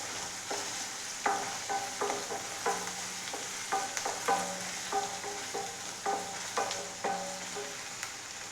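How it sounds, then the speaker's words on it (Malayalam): Onion, ginger and garlic sautéing in a pan for okra stir-fry, a steady close sizzle broken by repeated rhythmic scrapes and clinks of a spoon stirring, with no voices. "അപ്പോൾ ഉള്ളിയും ഇഞ്ചിയും വെളുത്തുള്ളി അല്ലിയും നമുക്ക് നന്നായി ഒന്ന് വഴറ്റിയെടുക്കാം."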